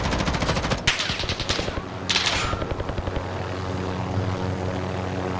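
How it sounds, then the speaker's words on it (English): A helicopter flying overhead in the game Warzone, a loud rhythmic rotor chop pulsing steadily, broken by two bursts of rapid gunfire, the rotor thrum carrying on alone afterward. "There's another heli."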